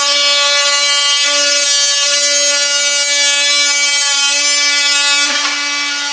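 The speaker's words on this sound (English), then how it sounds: "use a multi-tool here and go ahead and trim them off to where they're nice and flat" An oscillating multi-tool buzzes steadily as it trims window shims flush during a window installation, a loud, continuous high-pitched whine with a brief dip in tone near the end.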